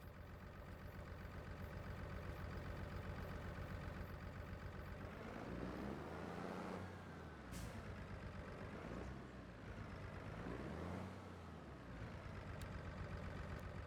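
Tractor engine in Farming Simulator 25, a low steady diesel rumble idling and swelling in pitch as it revs up and settles a couple of times, quiet and continuous with no talk.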